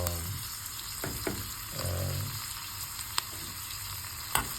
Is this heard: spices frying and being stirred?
yes